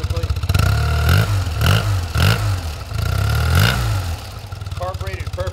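A carbureted 1981 BMW R65 motorcycle engine idles with a thumping exhaust and is revved several times in quick swells before dropping back to a steady idle.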